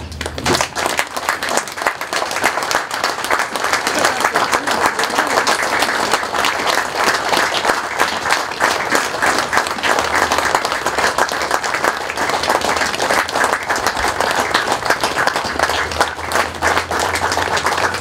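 A standing audience at a speedway meeting applauds in memory of a great rider, a dense, sustained wall of clapping that runs loud and unbroken for a long stretch.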